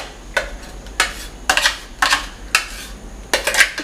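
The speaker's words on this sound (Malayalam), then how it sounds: "ഇത് ഞാനൊരു പാത്രത്തിലേക്ക് ഒഴിക്കുകയാണ്." Ground jackfruit batter is emptied from a mixer jar into a vessel with about seven sharp clanks and knocks at irregular intervals, close and loud.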